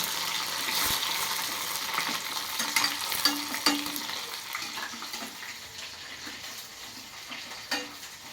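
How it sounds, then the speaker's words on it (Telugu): Tempering seeds, dried red chilli and curry leaves fry in hot oil, a continuous soft hiss and crackle close by with a few light stirring knocks, and no voices. "తాలింపు అయితే వేయించుకోవాలండి"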